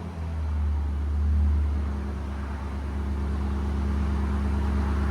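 A Nissan Armada 5.6L V8 with a MagnaFlow dual exhaust idles close by. The low, even exhaust rumble swells slightly once, then holds steady with no talk over it.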